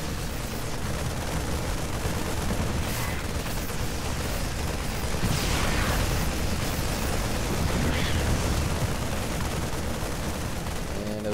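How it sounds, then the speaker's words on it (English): Siege tanks fire in a StarCraft II Terran battle: a dense, continuous barrage of booming blasts and explosions over a roaring low rumble, loud and sustained throughout with no voices. "Oh, it looks like there's still siege tanks down there."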